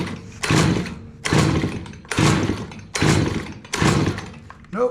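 Stihl BG55 leaf blower, a used unit in poor condition, failing to start: five rhythmic, loud rasping pull-cord bursts about a second apart, each cut off by a brief pause.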